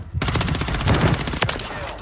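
Rapid automatic gunfire in a shooter video game, close and loud, firing in a continuous stream of shots for about two seconds.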